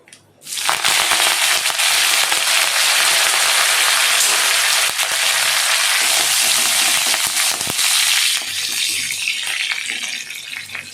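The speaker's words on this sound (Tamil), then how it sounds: "கடுகு நல்லா பொரிஞ்சிச்சு இப்போ நம்ம கருவேப்பிலை சேர்த்துக்கலாம்" Mustard seeds, urad dal and curry leaves sizzle loudly in hot oil while cooking beetroot poriyal, a dense, steady crackling hiss that starts abruptly and runs continuously, easing slightly near the end.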